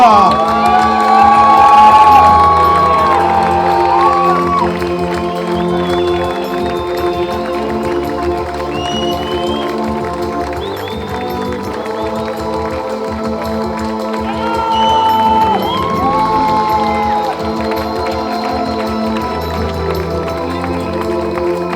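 A crowd cheers and claps for a trail runner at the Grand Raid race on Réunion, loud sustained cheering and whoops with music and an announcer's voice running over the noise.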